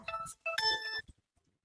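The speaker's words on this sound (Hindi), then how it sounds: "कहाँ से फोन आता है भैया?" A phone rings with short, bright electronic tone bursts, two quick chimes in close succession, then stops and leaves near silence.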